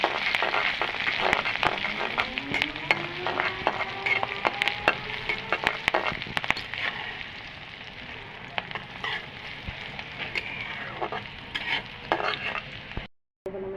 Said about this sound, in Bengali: আর আমি দুই কোয়া রসুন দিছি তিন চারটে কাঁচা মরিচ কালি কাঁচা মরিচ কেটে দিছি এটা ভালো করে ভেজে নিচ্ছি